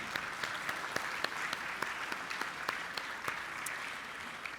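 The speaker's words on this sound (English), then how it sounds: "Please give her one more round of applause." Audience applause fills a 2023 Florida Inventors Hall of Fame ceremony hall, a steady, dense wash of clapping with a few sharper individual claps standing out, continuing evenly from start to end.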